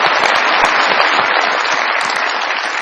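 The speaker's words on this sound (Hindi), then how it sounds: "बहुत सारी तालियां जी" A studio audience claps loudly and steadily, a dense even burst of applause filling the whole stretch with no voices over it.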